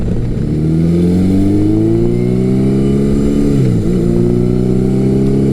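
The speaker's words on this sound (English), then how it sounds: "This bike has aftermarket dual exhausts on it, so it's got a 4-into-2 system, and the sound is nice." A Yamaha XJ1100 Maxim motorcycle with aftermarket 4-into-2 dual exhausts, loud steady engine drone with pitch rising as it accelerates, a brief dip at a gear change, then climbing again.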